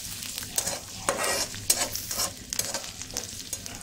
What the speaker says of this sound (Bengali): এখানে আমি কয়েক কোষ রসুন, পেঁয়াজ আর দারচিনি, এলাচি দিয়ে আমি একটু বাগার দেব